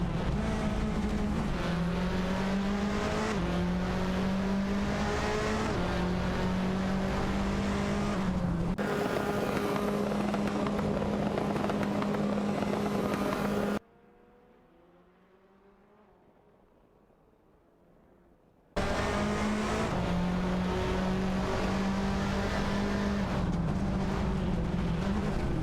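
Race cars in a racing video game, including an Alfa Romeo Giulietta TCR and a Honda Civic, drone loudly through shifting engine notes and passes, cutting to a quieter muffled stretch midway before the roar returns.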